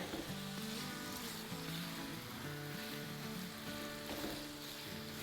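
Chicken and onions fry over a high flame, making a soft, constant sizzle under background music with a steady melodic line.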